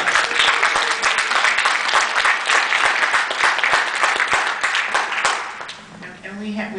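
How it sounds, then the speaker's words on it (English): Sustained applause from a convention audience, many hands clapping loudly and fairly close, tapering off near the end as a few voices begin. "it would be a nice time to even applaud Helen a little bit more"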